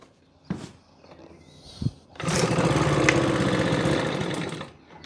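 Makita BHX2500 4-stroke leaf blower being pull-started: a couple of short rope-pull thumps, then the engine catches and runs loud and close for a few seconds before dying away.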